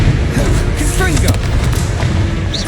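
The Confringo blasting spell detonates in Hogwarts Legacy. It is a loud, dense burst with a deep rumbling boom and crackling debris, and a voice is mixed in over it.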